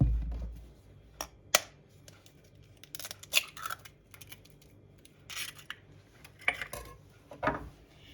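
An egg is beaten into grated potato mixture for potato pancakes with scattered sharp taps and wet scraping strokes of a utensil against the bowl, irregular and close.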